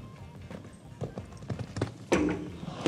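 A horse moves across a show jumping arena at the Longines Masters de Paris, its hoofbeats coming as faint, uneven clip-clops under crowd and arena ambience, with a louder rush of noise near the end.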